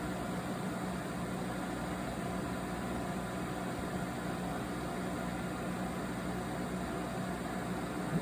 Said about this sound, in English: you should hear the fan just reducing speed while we get that cranked up